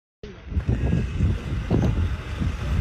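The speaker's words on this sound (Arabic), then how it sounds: "بس الجو بارد ترى، بارد وهوى هوى قوي" Strong cold wind buffets the microphone beside the Nile, a loud continuous roar with gusty swells that stays steady throughout, with no speech.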